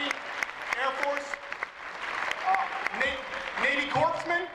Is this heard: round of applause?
yes